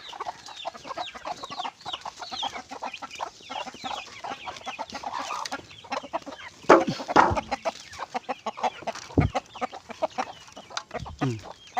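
Hens clucking busily close by while being fed organic feed on a farm, a dense stream of overlapping clucks and squawks with a few louder calls and flapping sounds, no talk.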